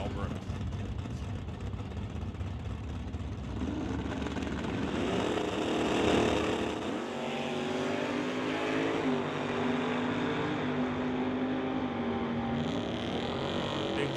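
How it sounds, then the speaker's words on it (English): A 1996 Camaro and a Dodge race side by side at a drag strip during an NHRA Summit ET Series event, their engines roaring and revving at a distance beneath ongoing announcer commentary. "So here's Dave John, the old 96 Camaro, going up against Brian Vader's Dodge"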